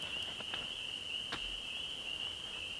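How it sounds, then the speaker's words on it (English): Thousands of frogs call in a mossy forest at night, merging into one steady, high, continuous trilling chorus that runs unbroken throughout, with no voices. "Very loud frogs. Thousands."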